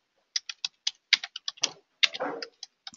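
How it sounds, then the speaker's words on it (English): Typing on a computer keyboard while entering a search string in PRIMER engineering software: a quick run of distinct, close key clicks in an irregular rhythm, with a brief denser clatter near the end, heard alone without talk. "So let's say I typed in"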